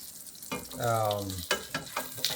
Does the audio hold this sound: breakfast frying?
yes